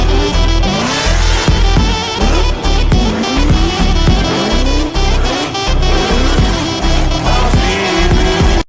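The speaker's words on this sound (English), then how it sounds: "Full speed, and then handbrake. Drift, okay?" A car driven at full speed into a handbrake drift, loud engine revving with rising and falling pitch sweeps and tire noise, close and continuous throughout.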